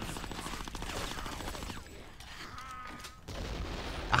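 Video game Conker: Live & Reloaded, with a rapid crackle of gunfire-like blasts and explosions filling the first half, then a quieter stretch and a final thump, all somewhat faint.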